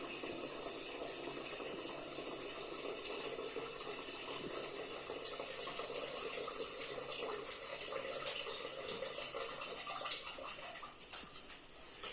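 Steady splashing and trickling of sugar water poured into a container of blackcurrant wine in the making, continuous and close, with no talking.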